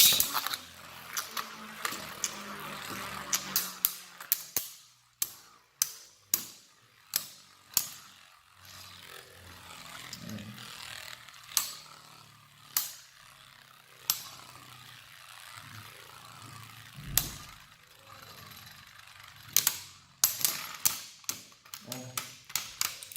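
Beyblade tops Vise Leopard and Jormuntor battling in a stadium, rapid sharp clacking and rattling collisions over a whirring spin, close, with brief talk in the background.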